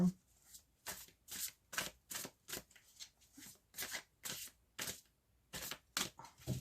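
Tarot cards shuffled for a seven-card spread, a close run of about a dozen quick riffling bursts in a fairly even rhythm, quiet overall.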